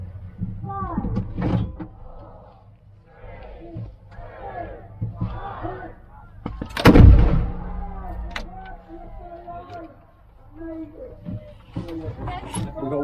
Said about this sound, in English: gunner is firing the tank gun